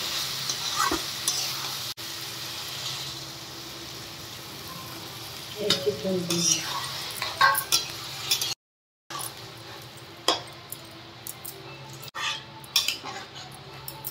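Egg, paneer and potato curry sizzles in a pan while a utensil stirs and scrapes against the metal in bursts. Hot water is poured in, the frying hiss continues close by, and faint talk comes through briefly.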